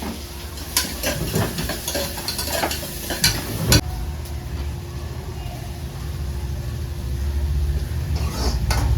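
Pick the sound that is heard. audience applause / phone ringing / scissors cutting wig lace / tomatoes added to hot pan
tomatoes added to hot pan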